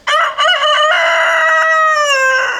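A Brahma rooster crows loudly and close by on a farm, one long sustained cock-a-doodle-doo with a rising, harmonic-rich call that holds steady before trailing off.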